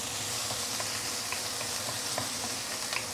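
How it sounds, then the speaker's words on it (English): Pickled vegetable (giam chai) sautéing in hot pork lard, a steady close sizzle and crackle with faint stirring clicks, no talking. "We can then put in the pickled veggie, the giam chai."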